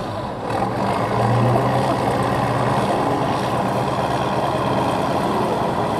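A Tatra truck's engine runs steadily at a truck trial event, a deep continuous rumble heard from nearby with no voices.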